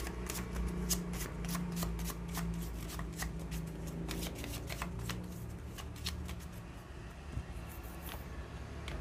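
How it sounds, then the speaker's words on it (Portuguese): Gypsy (cigano) card deck being shuffled by hand, close and steady with rapid riffling flicks and papery slaps continuing throughout. "Vamos colocar o baralho cigano para você agora."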